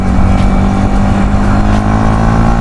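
A Yamaha YZF R125 motorcycle accelerates hard to overtake, its engine loud and close with a steady, droning roar that builds without pause.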